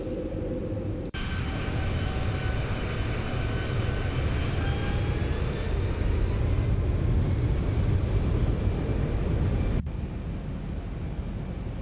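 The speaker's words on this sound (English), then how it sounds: "Gears coming out." Landing gear extending on a Boeing 737-800 in a flight simulator: a sudden clunk starts a steady roaring rumble with a rising whine over cockpit engine noise, ending abruptly about eight seconds later.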